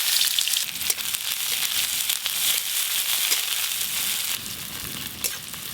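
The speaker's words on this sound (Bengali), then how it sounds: "পেঁয়াজ কুচিগুলো তো একদম লাল লাল করে ভেজে নিলাম" Chopped onions frying in hot oil with black cumin, a steady close sizzle with crackling bursts and faint stirring scrapes, no voices.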